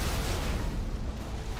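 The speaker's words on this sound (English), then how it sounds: "that was the sound of Kate exploding" An explosion in The Walking Dead game: a loud, dense roaring blast of noise that fills the short moment, with no talk over it.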